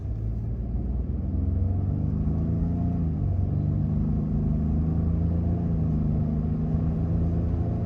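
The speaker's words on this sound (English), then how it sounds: "Just slow right down, and then accelerate hard here again." A 2021 Ford F-150 PowerBoost hybrid pickup accelerates hard, its steady low engine rumble heard from inside the cab and rising slightly in pitch, with no talking.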